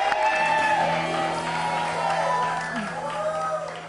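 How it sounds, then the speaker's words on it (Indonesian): A studio audience cheers and whoops with some clapping, loud and close, mixed with shouting voices and music throughout. "Tepuk tangan dong buat para pemainnya nih."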